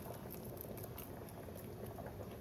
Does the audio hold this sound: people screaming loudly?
no